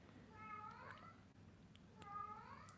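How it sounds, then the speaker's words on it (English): A house cat meows loudly in two drawn-out, wavering cries separated by a short pause, alone at moderate volume. "the second I read your message saying love the cat is when she just started screaming"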